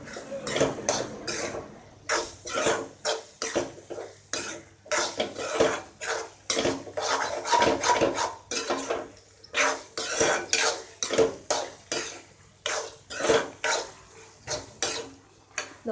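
Prawn thokku masala being stirred in a pan, with a steady run of scraping, clattering strokes of a spoon against the metal pan, close and fairly loud, repeating throughout.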